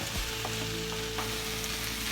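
Potato empanada filling sizzles and fries in a pan while being stirred, a steady loud crackle with a few soft scraping stirs, close up and without speech.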